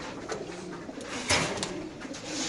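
A caged female pigeon with a leg tag coos softly in low murmurs amid gentle background noise, with no voices.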